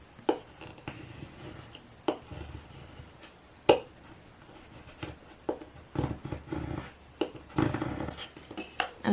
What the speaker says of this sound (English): use your scraping tool and just scrape over the letters